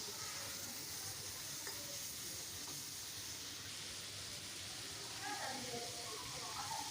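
Steady sizzling of ginger-garlic paste frying in a pan, close and continuous, with soft stirring scrapes and faint background noise.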